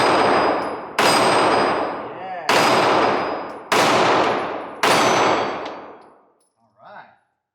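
Glock 43 pistol firing five sharp, loud rounds at uneven intervals, each crack trailing off in a ringing decay, followed by a faint metallic clink at the end.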